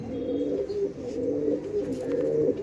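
Close, repeated low cooing from a pair of Madras pigeons fills the clip, soft throaty rolls over quiet background noise with no voices.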